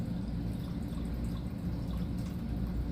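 Water from a fresh water fountain filling a big cup, a steady continuous pouring and trickling wash with a low burbling hum, close and unbroken throughout.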